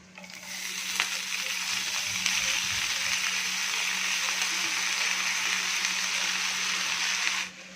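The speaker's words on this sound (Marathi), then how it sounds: "आता याच्यामध्ये आपण बारीक चिरलेला मेथी घालून घेणार आहोत" Chopped fenugreek leaves hit hot oil with potatoes and crushed garlic for aloo methi, giving a steady, close, continuous sizzle with occasional stirring scrapes and no voices.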